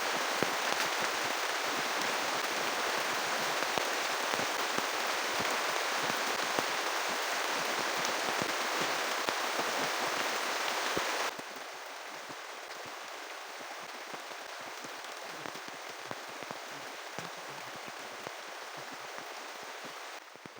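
Heavy rain falls on a riverside camp sheltered under leaf roofing, a dense, steady hiss throughout that drops abruptly to a softer wash about halfway through.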